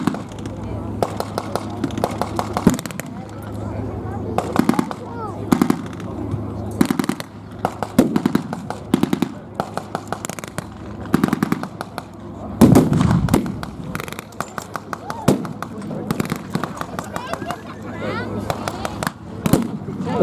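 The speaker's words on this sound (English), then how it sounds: "There's still artillery barrages falling down." Repeated loud bangs and crackling bursts of artillery and gunfire at an outdoor WWII battle re-enactment, irregular blasts scattered throughout with people talking between and under them.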